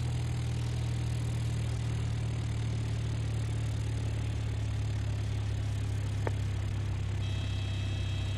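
In a flight simulator game, an aircraft engine sits at idle power, giving a constant low droning hum that stays even throughout, with a faint brief tick near the end.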